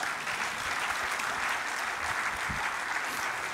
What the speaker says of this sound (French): Je vous demande, mesdames, messieurs, d'applaudir très fort l'arbitre de l'année